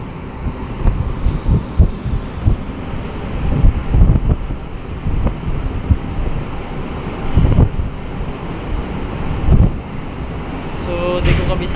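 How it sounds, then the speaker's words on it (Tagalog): Strong wind buffets the microphone over a continuous rush of fast-moving water, loud and close throughout, with occasional gusts and a voice speaking faintly in the mix. "Napakalakas ng current ng tubig."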